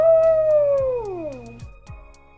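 A person imitates a dog howling with one long, sliding, falling howl that trails off into a few softer low sounds, close and clear.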